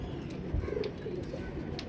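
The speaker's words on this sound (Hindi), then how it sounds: "ये जी बड़ी देर से इस कबूतर के मैं पीछे पड़ा हुआ था। फिरोजपुरी कबूतर है।" A Ferozpuri pigeon gives a brief, soft, low coo close by, set against a faint background murmur.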